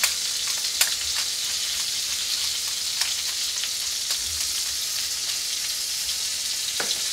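Soft shell crabs sauté in a hot pan, seasoned with salt and ground pepper, giving a steady, close, even sizzle with a few faint pops throughout, no voices.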